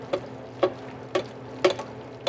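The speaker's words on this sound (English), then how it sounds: "I'm just going to adjust where the fish is, and I'm just going to ladle over that butter" Foaming butter ladled over seabass frying in a pan, heard as five evenly spaced spoon clinks and splashes roughly every half second over a low steady sizzle.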